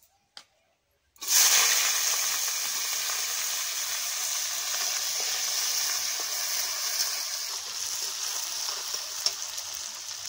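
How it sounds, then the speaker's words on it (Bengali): Sliced onion hits hot oil and ghee with dried red chillies, whole cumin and whole garam masala, erupting into a loud, sudden sizzle that settles into a continuous frying hiss with faint stirring ticks. "এখন এখানে দিয়ে দিচ্ছি পেঁয়াজ।"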